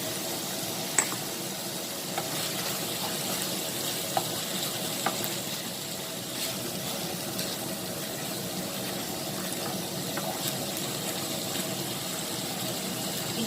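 Holy basil and spinach stir-fried in a hot pan give a steady, continuous sizzle with occasional scraping clicks of a spatula, close and even throughout with no talking.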